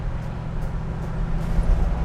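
A 1971 Camaro on the move, a low, steady engine hum and road drone heard from inside the car, moderate and even, with no voices.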